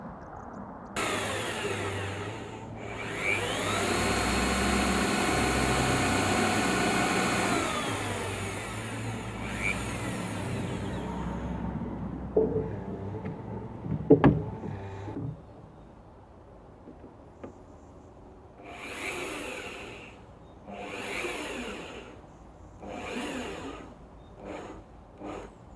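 A power driver drives big screws into a wall to fix a shade net in place. One long whirring run rises and winds down, then come a few clunks and later several shorter bursts from the tool, all close.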